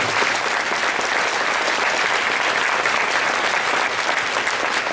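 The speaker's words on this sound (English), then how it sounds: "I think we all deserve the warmest round of applause at this point" A warm, dense round of applause fills the room at an awards reception for student peace projects, loud and steady throughout without any break or voice over it.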